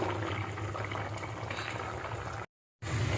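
Small crab curry bubbling over a medium-low flame, with a steady, close boil that holds even throughout and drops out briefly near the end.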